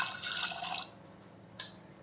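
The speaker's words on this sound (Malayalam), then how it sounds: "കുറച്ച് വെള്ളം ഒഴിച്ച് കൊടുക്കാം." Water poured into a pressure cooker holding jackfruit seeds, a bright splashing pour for under a second that stops, followed by a brief sharp drop or clink.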